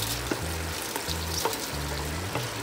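A pot of chicken tinola bubbles with a soft, fizzing simmer as it is stirred. A few light utensil knocks come through, and quiet rhythmic background music plays throughout.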